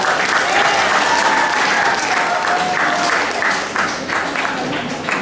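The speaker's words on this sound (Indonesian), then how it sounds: "mari kita berikan tepuk tangan yang meriah kepada semua yang telah berpartisipasi" Loud, continuous applause from a large crowd at a high school event in Indonesia, with a faint tone and scattered voices underneath.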